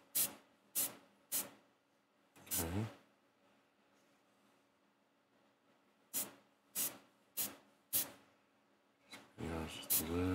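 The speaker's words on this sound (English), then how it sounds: "just spray it once, let it work itself in there" Short bursts from a spray can onto a painted model figure of Uhura, during dark skin tone painting: about eight separate hissing spurts spaced through the stretch, close and fairly loud, with someone talking briefly in between.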